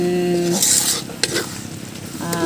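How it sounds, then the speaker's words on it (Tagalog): A wooden spoon scrapes and stirs a coconut milk mixture for bukayo candy in a pot, steady sizzling bubbling underneath with a brief clack, heard up close. "yung pinakapanghalo natin is kahoy para haluan siya, haluin"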